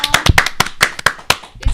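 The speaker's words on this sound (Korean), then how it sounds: "큰 박수로 환영해 주세요." An audience at a Korean talk-show studio claps to welcome a guest, a burst of sharp, close hand claps with no talk over them.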